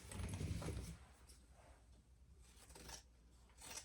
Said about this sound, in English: I am going to trim that seam